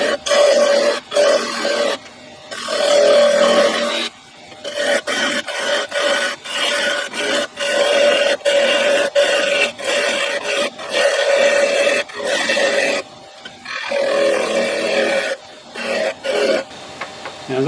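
A turning tool cutting wood on a lathe while shaping a mallet from a 4x4 post: a loud, continuous rasping scrape broken by brief pauses between passes.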